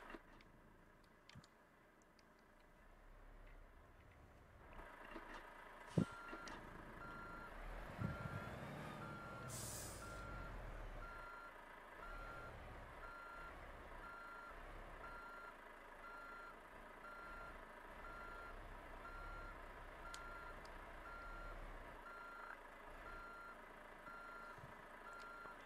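A truck in Euro Truck Simulator 2 reverses with steady, repeating high beeps under a low idling engine, with a burst of air brake hiss partway through.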